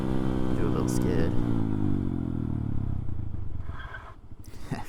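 Honda Grom motorcycle engine running close and steady, ending in a short rear-tire skid scrape as the wheel breaks loose near the end, with faint speech in the background.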